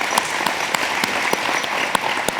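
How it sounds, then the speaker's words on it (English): An audience at a family weekend college counseling workshop gives a round of applause for a testing coordinator, dense clapping with a few sharp nearby claps standing out, loud and steady throughout. "Let's give Lauren a round of applause"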